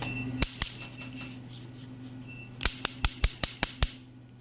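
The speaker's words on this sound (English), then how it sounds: "and as I said, the other sign that laser is ready to take the shot" Sincoheren Nd:YAG laser firing, sharp clicking snaps with two close shots early on, then a quick rapid series of about seven evenly spaced snaps over a faint steady hum.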